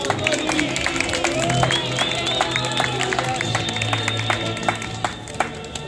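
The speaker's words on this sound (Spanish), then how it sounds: "Fuerte aplauso para Tony" An outdoor crowd in a San Telmo plaza claps for a milonga tango dancer, a dense patter of hands with cheering and some talk mixed in, easing slightly near the end.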